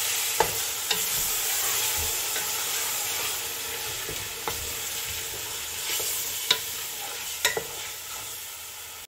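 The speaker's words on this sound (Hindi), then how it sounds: "और साथ ही हम ये मैरिनेटेड किया हुआ चिकन था बिरयानी का, वो हम इसमें डाल देंगे। और इसकी भुनाई शुरू करेंगे।" Marinated chicken for biryani frying in a pot makes a continuous close sizzle with occasional sharp clinks and scrapes from stirring.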